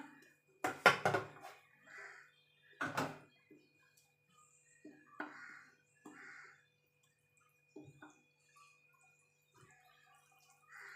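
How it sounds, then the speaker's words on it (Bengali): Dry ingredients stirred into Bati cake batter in a bowl, heard as sparse soft clinks and scrapes of a utensil against the bowl, with quiet gaps between the strokes. "এর মধ্যে এবার অল্প অল্প করে শুকনো উপকরণ দেবো আর মেশাতে থাকবো"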